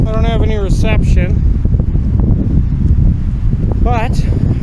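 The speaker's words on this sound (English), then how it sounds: "So it's pretty windy." Heavy wind buffets the microphone in a constant low roar, with a voice speaking briefly near the start and again near the end.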